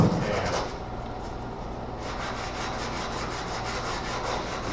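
Hardened body filler is sanded by hand, a close, steady rasping scrape in continuous strokes, fairly loud and alone without talk.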